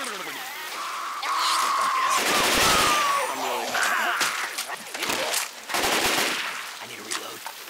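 Video game gunfire from Left 4 Dead 2 fills the clip with dense bursts of shots that run over and under a mix of game noise and a whining tone, loud and close.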